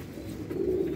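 Rampuri patta pigeons coo softly in a short, steady low murmur, close by and without talk over it.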